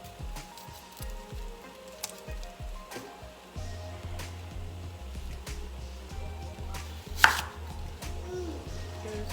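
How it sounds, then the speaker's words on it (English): A knife chops through an onion on a cutting board in quick, rhythmic thuds, close and clear, with a soft hum running underneath and no one talking. "Just going to give it a good slice, chunky slice."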